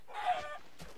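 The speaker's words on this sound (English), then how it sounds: "So many chickens." A chicken in a block-building video game gives a short, faint cluck, followed by a softer second note.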